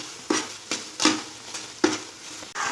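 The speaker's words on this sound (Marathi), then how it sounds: "मी रव्यामध्ये एकत्र भाजायला टाकते. त्याने केळी पण मऊ होतात आणि रवा पण भाजला जातो." Banana pieces and semolina roasting together in ghee for sheera, with a quiet steady sizzle punctuated by four or five scraping stirs of a spoon against the pan, close up.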